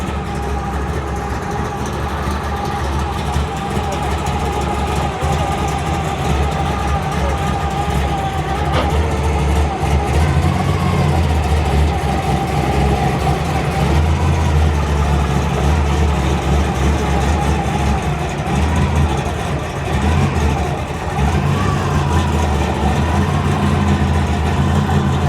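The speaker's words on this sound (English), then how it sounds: "I hear something rumbling coming up the street." A hot rod's engine rumbles steadily at a small-town cruise-in car show in Pikeville, Tennessee, a loud continuous low throb filling the whole stretch as it approaches, with faint crowd ambience behind.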